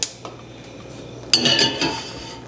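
Seasoned peri-peri chicken goes onto a metal sheet pan, giving a sharp clank at the start and then a cluster of ringing metallic clatters and scrapes partway through, close and fairly loud.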